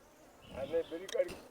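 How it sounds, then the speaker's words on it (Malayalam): Honey bees hum and buzz close by from a hive hidden inside a wall, rising and wavering, while a person speaks softly underneath. "കുറച്ച് ഈച്ച ഉണ്ട് ഇതിൻ്റെ"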